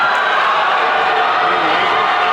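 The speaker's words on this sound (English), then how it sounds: "And a sarcastic cheering from the Highlands crowd." A basketball crowd in a gym at a Highlands at Knoch game lets out a dense, steady roar of sarcastic cheering that fills the space without a break.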